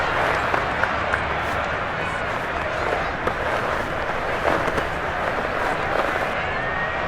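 Video game stadium crowd in Madden NFL 22, Washington against Pittsburgh, sustained dense applause and crowd roar at steady loudness throughout.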